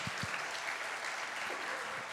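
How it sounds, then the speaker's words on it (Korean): A church congregation claps to welcome a visiting group of five young people from another church, a steady broad wash of applause filling the room throughout, with a couple of low thumps near the start. "우리 환영한다고 박수 한번 보내실까요?"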